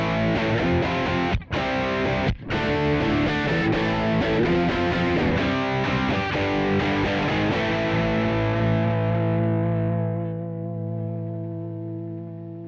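Heavily distorted electric guitar, comparing a Two Notes Genome plugin against a Dirty Boy pedal, plays dense driven riffs with brief gaps, then rings out on a sustained chord that fades away.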